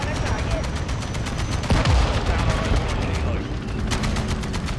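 Rapid gunfire from the video game Modern Warfare 2, with dense repeated shots and a heavy boom near the two-second mark, heard under steady game noise.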